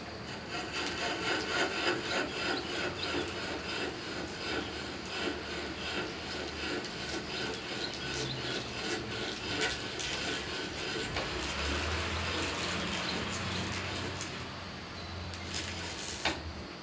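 A hand-cranked bit bores mortises into wooden chair legs, giving a steady rasping, rubbing grind of cutting wood that turns on and on at close range with no speech.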